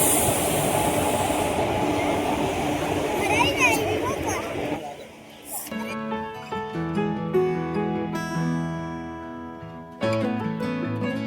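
A passenger train pulls into a busy railway station, its rumbling wheels and clatter loud for about five seconds before giving way to a tonal horn or station chime, with people talking over it.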